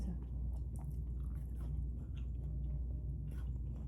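Someone chews chocolate cereal balls close to the mic, soft squishy mastication with faint crunches over a low background hum, no clear speech.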